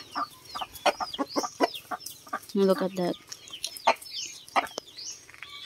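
A backyard rooster clucks repeatedly at close range in short, irregular bursts, with softer chicken sounds around it and someone talking briefly over them.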